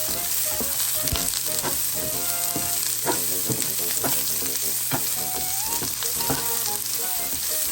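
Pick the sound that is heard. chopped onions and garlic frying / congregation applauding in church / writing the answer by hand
chopped onions and garlic frying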